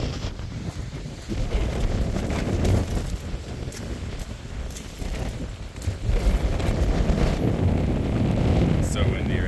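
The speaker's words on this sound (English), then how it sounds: "It's so windy right now." Strong wind on the Appalachian Trail in Virginia buffeting the microphone in loud, continuous gusts, a rough low roar that rises and falls without pause.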